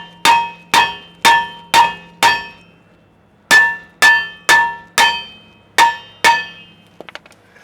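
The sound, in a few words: hammer knocking brake rotor loose on GM truck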